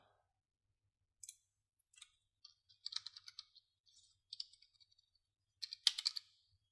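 Typing on a computer keyboard, quiet and close, with short irregular bursts of key clicks separated by brief pauses and no talking.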